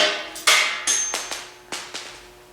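Metal nuts dropped on a repair shop floor, a run of about six sharp metallic clinks and bounces, close and loud, each ringing briefly before fading.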